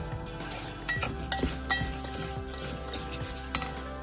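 Bulgur wheat fries in a pan for a Gujarati lapsi sweet, a close, steady sizzle broken by scrapes of stirring and occasional clinks of a utensil against the pan.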